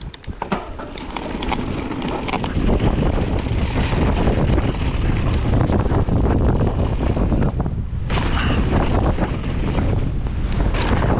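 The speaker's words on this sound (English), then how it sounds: "Let's get out of the wind here." Strong wind buffets the microphone on a mountain bike trail near Lake Tahoe, a loud, rough roar that rises and stays heavy throughout, with a brief lull near the end.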